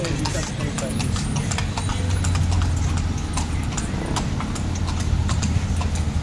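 Horse pulling a carriage through the old walled streets of Intramuros in Manila, steady clip-clopping hooves close by over a low engine rumble, with people talking throughout.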